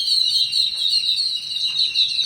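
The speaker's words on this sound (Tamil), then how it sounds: "குருவிங்க பாருங்க குருவிங்க சவுண்டு கேட்குதுங்களா இவ்வளோ குருவி" A dense flock of sparrows chirps steadily and loudly outdoors, many overlapping high calls forming a continuous bright twitter with no voices.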